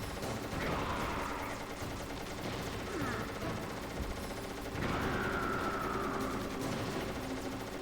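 A Gatling gun fires continuously in the video game Metal Gear Solid, a dense, unbroken rattle of rapid shots layered with game effects. Someone talks over it.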